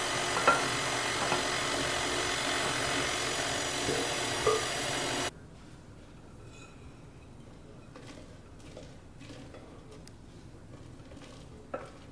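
A baking mixture is stirred, likely by a mixer, with a steady mechanical whir that drops to a quieter, softer churning partway through, with no voices.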